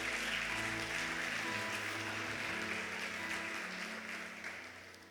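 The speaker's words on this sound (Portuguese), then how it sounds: "Pode aplaudir a Jesus." Church congregation applauding, a steady wash of clapping that carries on for several seconds and slowly fades away, with no talking over it.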